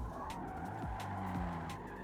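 Mazda car drifting through a corner on the Fujimi Kaido mountain road, engine droning steadily with two short tire squeals breaking through, close and loud with no talking.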